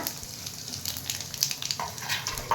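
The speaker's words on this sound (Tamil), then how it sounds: "ஜீரகமும் சோம்பும் இதுவும் பொரிஞ்சதும் காஞ்ச மிளகாய் கிள்ளி வச்சுருக்கேன். இதையும் சேர்த்து நல்லா வதக்கிக்கோங்க." Cumin seeds, fennel seeds and dried red chillies sautéing in hot oil for idli sambar tempering give a steady, moderate crackling sizzle with small pops and no talking.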